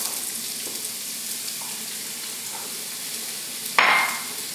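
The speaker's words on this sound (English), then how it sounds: "The oil's hot, so we're going to start off by adding onions" Onions drop into hot olive oil over medium-high heat, raising a sudden loud sizzle that hisses on and slowly settles after a quiet stretch of faint kitchen noise.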